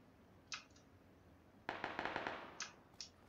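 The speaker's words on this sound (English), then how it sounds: "Gunfire." Gunfire in the PUBG battle royale game: a single distant-sounding shot, then a rapid burst of several sharp cracks, followed by two more isolated shots, moderately loud with no talk.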